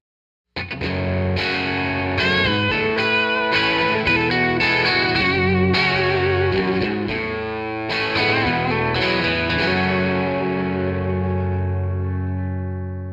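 A song, the title track of a band's twelfth album, plays as a continuous full-band recording with electric guitars and effects, loud and steady throughout after a brief silent start.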